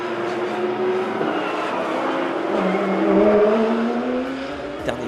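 A Porsche race car at Paul Ricard drives toward the finish line, a sustained engine drone with rising and shifting pitch, moderately distant, with a brief sharp burst near the end.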